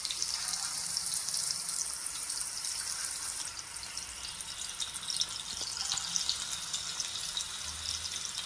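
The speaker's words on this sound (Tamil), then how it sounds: "எண்ணெய் சுடட்டும். சுட்டவுடனே இதில் கத்திரிக்காவெல்லாம் நம்ம அப்படியே அடுக்கிடலாம்." Brinjal is frying in hot oil for Virudhunagar-style ennai kathirikai, giving a steady, dense, hissing sizzle that stays close and constant, with faint watery crackles and no talk.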